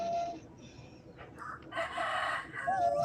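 A rooster crows loudly nearby, its strained call rising and trailing off over faint background noise.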